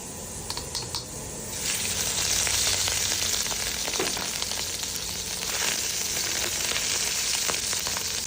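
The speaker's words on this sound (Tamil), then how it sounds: "லைட்டாக எண்ணெயில் வதக்கிடுவேன்" Small chopped pieces being sautéed in hot oil: a few light clicks, then a steady close crackling sizzle that holds loud and even, with faint stirring taps.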